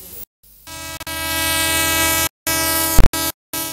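A passenger train from Ibadan pulls into Iju station with a loud, sustained rumble and steady tonal drone, broken by brief gaps and a couple of sharp horn-like bursts near the end.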